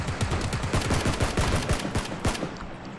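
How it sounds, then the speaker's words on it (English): Rapid bursts of gunfire from the battle royale game PUBG, a fast run of sharp loud shots over about two seconds that ends abruptly, with no voices. "Ah, shotgun."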